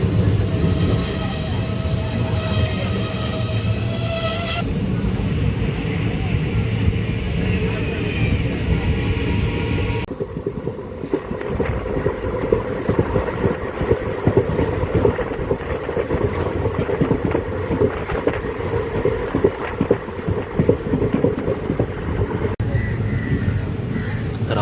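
A Rameswaram to Madurai passenger train arrives at a station near the new Pamban bridge, a continuous close rumble with wind buffeting, while someone talks over it.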